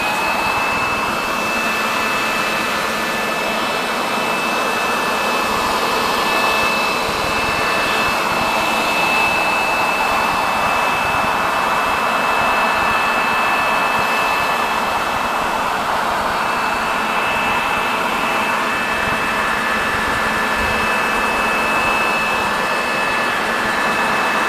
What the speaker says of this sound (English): I have a blower, standard blower.